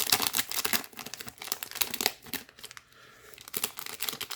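Blizzard trading card pack torn open, with bursts of crinkling and ripping foil wrapper close up, a short pause, then more crackling handling.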